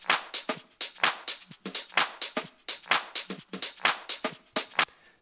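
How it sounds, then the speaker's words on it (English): A dry hi-hat percussion loop from a sample pack, with crisp, evenly spaced ticks and open hats in a steady dance groove, loud and alone for about five seconds. "And together the percussion sounds like this."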